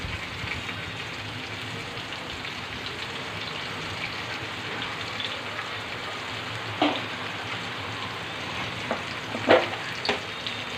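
Oil heats and sizzles steadily in a hot pot ready for cooking masala, a soft continuous crackle with a few sharper pops toward the end.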